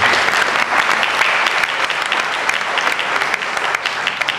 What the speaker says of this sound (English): It's a big round of applause for the class.